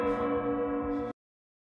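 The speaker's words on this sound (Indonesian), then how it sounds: "Suara lonceng terus bergema ke seluruh penjuru." A large tower bell, rung by pulling its rope, sounds in a few quick pulsing rings that hold a rich sustained tone before cutting off abruptly into silence.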